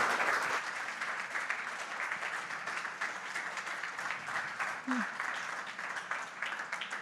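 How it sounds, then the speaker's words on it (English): After a panel discussion on sustainable building design, the audience gives the architects on the panel a round of applause, a moderate steady clatter of clapping with a brief murmur of voices partway through. "So can we please get a round of applause for their passion and for their knowledge?"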